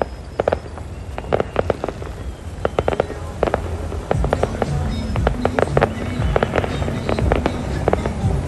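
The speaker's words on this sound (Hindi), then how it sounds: "आतिशबाजी" New Year's fireworks crackle and pop in dense, irregular bursts against a steady background rumble, with sharp reports scattered throughout and some faint voices mixed in.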